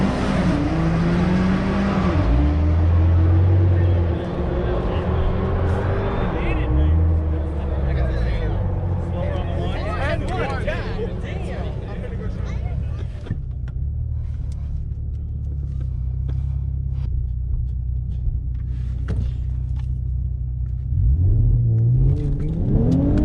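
A car on the drag strip at an Ennis, Dallas import test-and-tune event, its throttle hanging in first gear. The engine revs and accelerates loudly up close in rising sweeps, then drops to a rough idle rumble before revving again, with voices faintly in the background.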